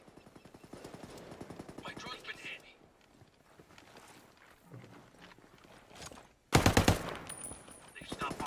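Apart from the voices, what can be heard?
gunfire in the video game Ghost Recon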